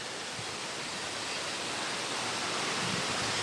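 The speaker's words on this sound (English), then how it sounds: "So this is the Minnehaha Falls right here." Minnehaha Falls in Watkins Glen Gorge, a New York state park, pours as a steady, dense roar of falling water, broadband and unbroken throughout with no voices.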